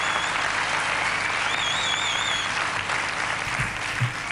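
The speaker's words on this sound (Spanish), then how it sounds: "Si os parece me dais un aplauso y empiezo bien" Audience applause at a Spanish-language stand-up comedy show, a steady wash of clapping that fills the whole stretch at an even level, with no talk over it.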